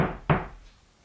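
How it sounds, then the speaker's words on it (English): Two knuckle knocks on a drywall wall while searching for a stud, a sharp close rap followed by a second slightly louder one, each with a short hollow decay, no voices. "You can just knock and they'll sound different."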